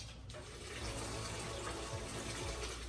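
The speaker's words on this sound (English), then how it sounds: "And now we're going to add 4 cups of water to the blackberries." Water poured from a cup into a pot of blackberries on the stove for jelly, a steady close splashing and trickling pour that runs unbroken, with no talk over it.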